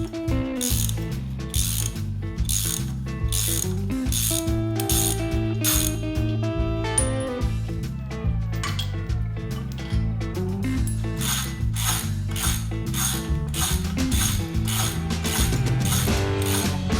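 A ratchet wrench works a bolt loose on a trailer wheel, with rapid, regular clicking strokes repeating close and loud, brief pauses between bursts of ratcheting.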